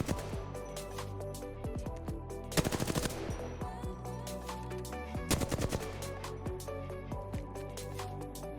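Video game weapon gunfire in rapid automatic bursts, crisp repeated shots with metallic clatter and two louder volleys, fairly quiet overall.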